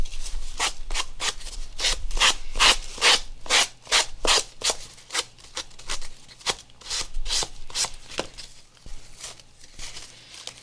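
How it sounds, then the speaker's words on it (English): Sandpaper rubs across a cardstock book cover in fast, regular back-and-forth strokes, a close, bright scratchy rasping that keeps going with brief pauses. "The back cover doesn't sand off quite as well as the front because there is a pocket back here."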